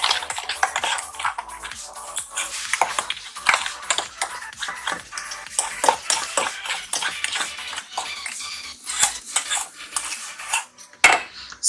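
A spoon scrapes and clinks steadily around a pan of homemade chocolate mixture, a busy, close run of metallic taps and swishes with no speech.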